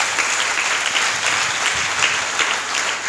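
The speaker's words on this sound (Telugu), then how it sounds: "గట్టిగా చప్పట్లు కొడదాం" A church congregation claps loudly at a feast-day sermon, sustained dense applause filling the whole moment without pause.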